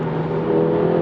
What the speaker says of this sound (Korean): 가속 페달을 좀 깊게 눌렀더니 컴포트 모드에서도 엔진 사운드가 제법